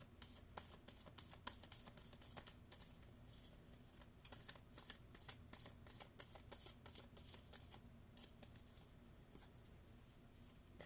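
Tarot cards being shuffled by hand, a steady run of crisp riffling flutters and soft card slaps close up, continuing without pause and with no one speaking.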